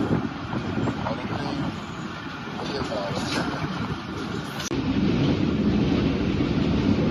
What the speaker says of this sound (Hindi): बहुत बेहतरीन हवा चल रही है।